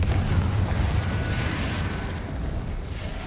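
A Confringo fire spell bursts in Hogwarts Legacy with a loud, sustained rumbling explosion and broad roaring noise that slowly fades over a few seconds.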